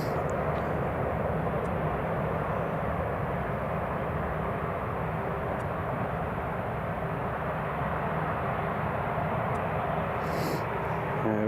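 A British Airways airliner lands at Newcastle airport, its engines giving a steady, loud broadband roar that holds evenly throughout with no talk over it.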